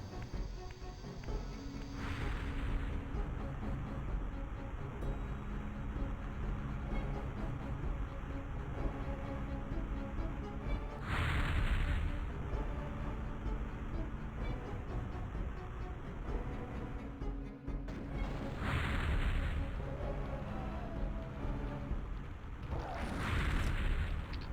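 Fire and gas switched on in the video game Soul Reaver, heard as a continuous loud roaring rumble with a few sharp whooshing bursts swelling up through the steady noise.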